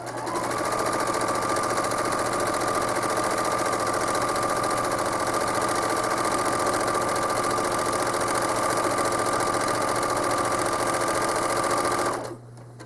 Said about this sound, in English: I'm going to stitch ribbon candy, which is simply stitching left and right